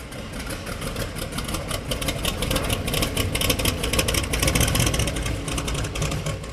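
A car engine idles steadily at close range as it is backed out of a garage into the sunshine, a continuous low rumble with slight swells in level and no talk.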